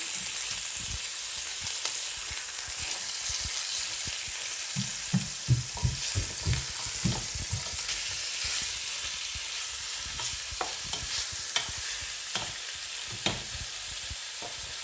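Meat browns in a hot pan for Kabuli rice, sizzling and frying in a steady hiss, with scattered soft clicks of a utensil stirring, close and fairly quiet.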